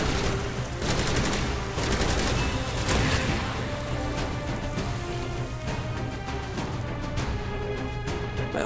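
An upgraded weapon fires in the video game Bombshell, with rapid, loud bursts of gunfire and booms layered densely over a constant rumble of game sound.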